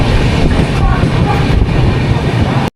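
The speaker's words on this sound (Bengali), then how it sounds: "ব্যান্ডেল জংশন স্টেশন থেকে ট্রেন ছাড়লো।" The Kamrup Express, an Indian long-distance passenger train, pulls out of Bandel Junction station with a loud, steady low rumble heard from on board. The rumble runs continuously before cutting off abruptly at the end.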